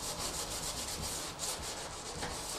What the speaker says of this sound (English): I'm just going to run my screwdriver nice and lightly, just to try and break it away.